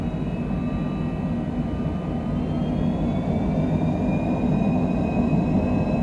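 A Cessna Citation business jet takes off in Microsoft Flight Simulator 2020, with a loud, steady engine roar and faint rising turbine whine throughout and no talk.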